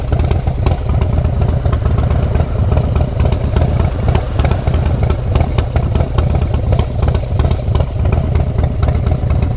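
A custom motorcycle, likely a softtail, idles loud and close at an outdoor rod and custom club show, its steady throbbing clatter running unbroken throughout with no talk over it.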